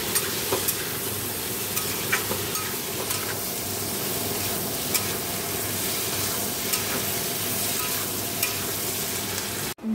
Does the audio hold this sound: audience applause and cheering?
no